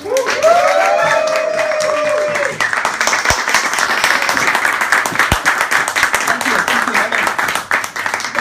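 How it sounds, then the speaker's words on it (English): A stand-up comedy audience in Edinburgh claps and cheers loudly for a comedian taking the stage, starting with whoops and cries over a compère's voice, then settling into thick, continuous applause. "make that all happen in the clapping and the cheering way"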